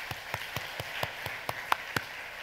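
Congregation clapping during a church worship service, a thin, steady patter of hands with a few sharper claps standing out, fairly distant and moderate in level with no voices.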